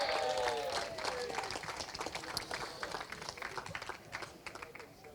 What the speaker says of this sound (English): Big round of applause, please, for Minimax driver 37